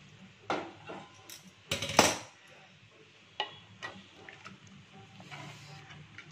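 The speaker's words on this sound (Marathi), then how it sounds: "पाणी तापवून घेतले मी, ते घालते" Heated water poured into a pot of mutton curry makes a brief splashing rush, set among a few metallic clanks of the pot and spoon against a quiet kitchen background, with no voices.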